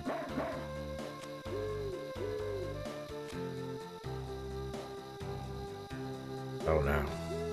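Dog barking in the video game Mother 3, heard as a few short yips over looping game music, with a brief louder burst near the end.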